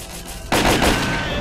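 Gunfire in the shooter game S.T.A.L.K.E.R. Clear Sky: a sudden loud burst of rapid automatic shots erupts after a brief quiet lead-in, close and harsh, and no one speaks.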